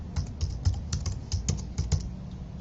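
Rapid keystrokes on a computer keyboard as a password is entered during an online account sign-up, a quick irregular patter of close, crisp clicks with no talking.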